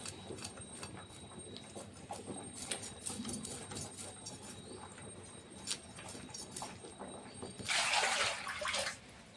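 Cut bata fish being washed in water, with splashing and sloshing throughout and a louder burst of running, splashing water near the end, close by with no talk.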